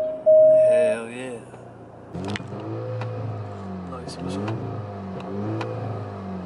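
A straight-piped Alfa Romeo engine revs sharply once, then rumbles and revs again in bursts, loud exhaust. People talk over the engine noise.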